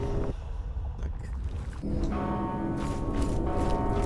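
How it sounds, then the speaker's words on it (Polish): A heavy bell tolls in the dark fantasy game Mortal Shell, its sustained ringing tone swelling in over a low ambient rumble and lingering to the end. "Nadal dzwon bije."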